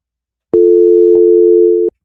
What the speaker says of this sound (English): Would have gotten just a dial tone.